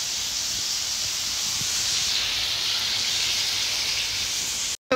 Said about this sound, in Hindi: अभी मैं बना रही हूँ पनीर की सब्जी